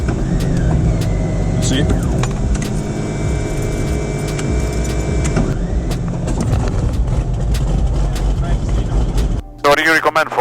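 A light airplane's propeller engine, on a plane with a failing propeller governor, runs loudly and steadily throughout with a droning, tonal roar that shifts near the end, while a voice speaks briefly.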